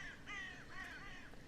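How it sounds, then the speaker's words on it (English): A crow cawing in a video game set around a cabin: a few harsh, drawn-out caws in quick succession, faint against quiet ambience, with no talk. "Suddenly crow noises?"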